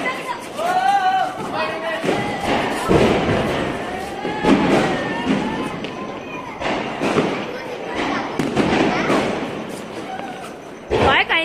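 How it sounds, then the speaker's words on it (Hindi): Firecrackers bursting outdoors during a festive celebration, several sharp thuds and cracks scattered irregularly amid people chatting and talking nearby, with a loud close bang near the end. "पटाखे से देख कितना पॉल्यूशन हो रहा है।"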